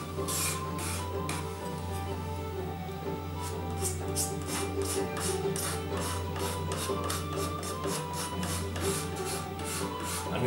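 Steady rasping scrape of a blade across an unvarnished wooden cello neck, with rapid repeated strokes growing more rhythmic, close up over a low constant hum.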